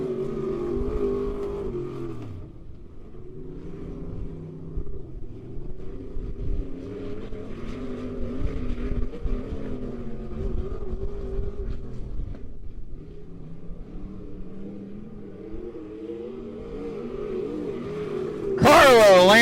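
Dirt track race cars, including B-Mods, roaring around Bolivar Speedway during a heat race, engines droning and revving continuously under an announcer's steady commentary.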